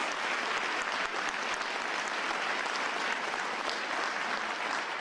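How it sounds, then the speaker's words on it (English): Crowd applauds at a swearing-in ceremony for Philadelphia's police commissioner, steady dense clapping from many people heard at moderate distance, continuous throughout. "give these lovely ladies and their beautiful mother, Mrs. Bethel, a huge round of applause"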